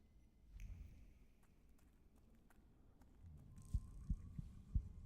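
Soft, low heartbeat thumps arrive near the end in a few uneven beats, preceded by a quiet murky hum and faint scattered clinks, set in a dark story-driven role-playing game.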